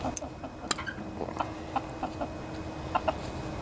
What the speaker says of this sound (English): My chicken's trying to attack me here while I'm doing this.